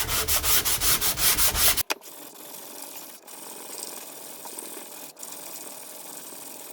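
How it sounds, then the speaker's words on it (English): Hand sanding the edges of a VW tool, a rapid rhythmic rubbing of close, loud strokes for about two seconds, then a quieter room with only faint scuffs. "I have to keep putting a little bit of a chamfer, or just sanding the edges off"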